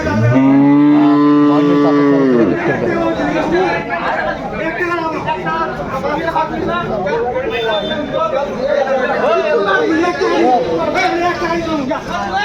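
A loud, long moo from a nearby young bull or heifer calf opens, followed by a busy crowd of people chattering and calling over the din of the Fasiladanga cattle market.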